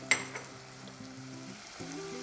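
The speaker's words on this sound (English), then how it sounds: "Add the chopped tomatoes and green chilies now. Stirring it, cook for 3 minutes." Chopped tomatoes and green chilies frying while being stirred for a green moong dal curry, heard as a soft sizzle with a sharp clink at the start and light scraping strokes, close and fairly quiet.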